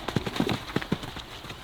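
Several horses move about together, their hooves clip-clopping in quick irregular bursts close by, then thinning out to a quiet stretch.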